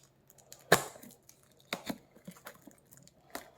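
Cardboard packaging on a board game box is torn and handled during unboxing, producing a few sharp rips and crinkles separated by quieter rustling, close and fairly faint with no talk.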